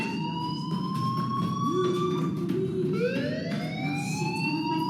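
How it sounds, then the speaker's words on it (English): A wailing electronic alarm sounds in Life is Strange, a steady rising siren-like tone with sweeping pitch over a constant background hum, moderately loud and without talk. "Hey, do you hear that fire alarm?"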